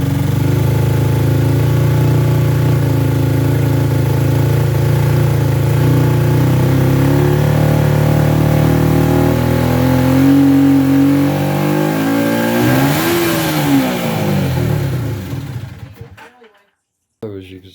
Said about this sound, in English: But the bike revs. It revs well.